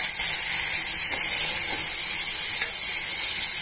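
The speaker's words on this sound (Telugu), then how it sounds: "ఇప్పుడు ఈ తాలింపులో మనం ఇందాక కట్ చేసి పెట్టుకున్న టమాటో పీసెస్ని వేసుకోవాలండి." Tomato pieces hit hot oil tempered with green chillies, making a loud, close, steady sizzle with a few faint stirring clicks underneath, while upma is being made.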